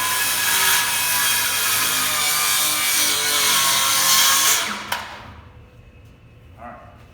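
Handsaw cutting a marked line across the top side of a wooden hip rafter, steady loud back-and-forth rasping strokes for about five seconds, then stopping abruptly, followed by faint handling noises.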